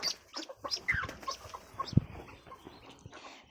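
A hen among young chicks clucks in short, irregular bursts close by, with one louder sharp call in the middle and quieter farmyard sounds around it.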